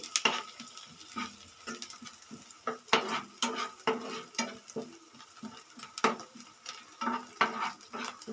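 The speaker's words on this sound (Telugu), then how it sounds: "ఫ్రెండ్స్ ఇలా కలుపుతూ ఉండాలండి" Onions frying in a pan are stirred with a utensil, giving repeated scraping clinks over a soft, steady sizzle at moderate closeness.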